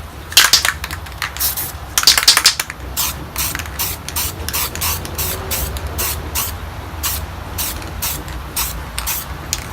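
White spray paint is blasted over stencils as a starry space scene takes shape, in a run of sharp, close hissing bursts of varying length, loudest near the start.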